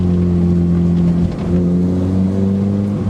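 Opel Speedster with a 2.2-litre engine drones steadily while driving, a loud, continuous in-car hum that dips briefly as the gear changes, then picks up again without any talk.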